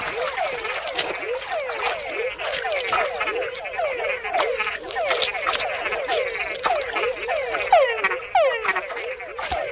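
A dense chorus of frogs calling in the Panamanian wild, many overlapping croaks and chirps repeating rapidly and steadily throughout, close and loud with no talk.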